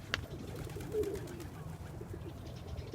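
Pigeons cooing softly at close range, a low throaty warble rising once in the middle, over faint background noise and a brief sharp tick near the start.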